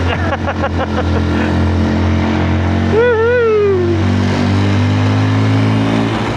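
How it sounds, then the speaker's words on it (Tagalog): Motorcycle ridden along a rough mountain road in Bakun, Benguet, its steady engine drone loud and close throughout, with one rising rev or horn-like tone swelling midway, no talking. "Aangkas ko muna kayo sa motor ngayon guys. Ipasyal natin kayo dito sa mga rough road."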